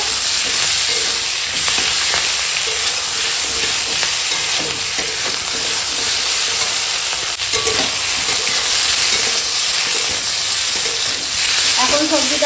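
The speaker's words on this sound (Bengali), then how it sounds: "আদা রসুন জিরে একসঙ্গে ছেলে বাটা এই মশলাটা দিয়ে এখন একটু কষিয়ে নেবো" Vegetables sizzle and fry in a pan with a ground ginger, garlic and cumin paste, a steady close hiss of frying with occasional stirring sounds throughout.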